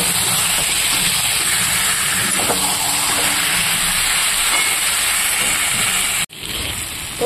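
Mutton braising for kosha in a pot, a loud steady hiss of steam and sizzle running unbroken for several seconds, then a sharp brief cutoff before the hiss resumes, with no voices.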